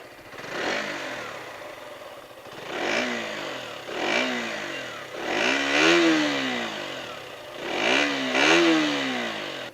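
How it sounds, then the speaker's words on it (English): A KTM Duke 125 motorcycle engine revs repeatedly, with four or five rising and falling throttle blips from a close, muffled but raspy exhaust. "let's hear the exhaust note"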